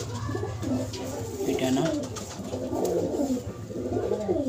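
Pigeons coo in low, rolling bursts close by, one bird noted as sick with a cold, while someone talks briefly over the steady calls.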